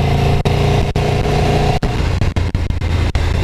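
A Ducati Streetfighter motorcycle engine runs loud and steady with a continuous deep drone, broken by several sharp momentary dips as the throttle blips or gears shift.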